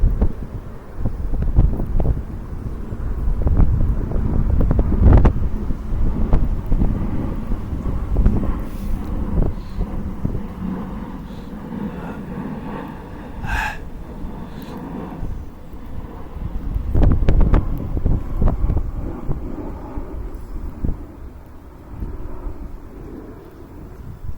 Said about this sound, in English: Keep blowing, wind. Help me out.